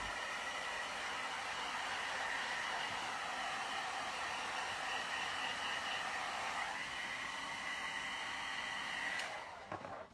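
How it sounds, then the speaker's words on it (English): A hair dryer blows steadily to dry paint on paper artwork, a loud continuous whooshing hum that shifts pitch slightly partway through and cuts off near the end. "I'm going to use this dryer because it's quicker."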